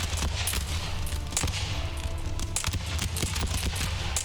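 Troops firing musket volleys in Empire: Total War, a rolling crackle of shots that comes in bursts and sounds somewhat distant, steady throughout with no talk.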